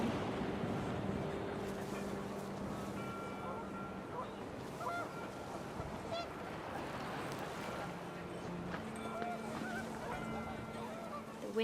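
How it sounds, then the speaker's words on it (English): Panicked geese honking in the video game What Remains of Edith Finch, repeated nasal calls over a windy, washing background, moderately near and mixed with a voice talking. "The wind picked up and panicked geese appeared and quickly went."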